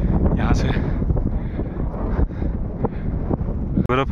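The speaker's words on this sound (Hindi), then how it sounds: "ये बर्फ वाली हवा चलने लगी" Cold snowy wind on a winter mountain trek at Tungnath, roaring gusts buffeting the microphone in a steady low rumble, with faint voice-like bursts and a sharp crackle near the end.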